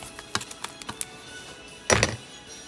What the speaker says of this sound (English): Why are we typing David?